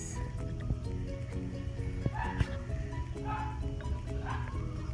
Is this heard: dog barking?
yes